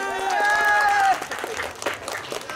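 Crowd at a prize-giving event with an actor clapping in a short, scattered burst, with voices and a tonal sound at the start before it thins out.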